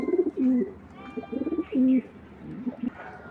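Racer pigeons coo softly in a loft, with several low, rolling coos in an uneven rhythm and faint rustling between them, and no one speaking.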